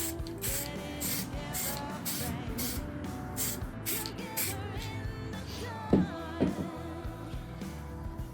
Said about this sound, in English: one last spray of the layering spray